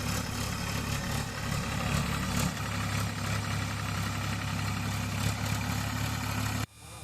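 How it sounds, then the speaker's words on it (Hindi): A tractor runs over a standing oilseed crop with a steady, loud diesel engine drone and low rumbling hum, close and continuous for several seconds before abruptly cutting out near the end. "उक्त भूमि पर खड़ी तिलहन की फसल पर ट्रैक्टर चलवाकर भूमि को खाली करा दिया गया"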